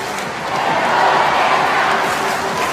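Crowd at the Asian Games swimming pool during the men's 1500m freestyle final cheers in a steady, loud wash of voices that swells slightly and holds, with no clear talk above it.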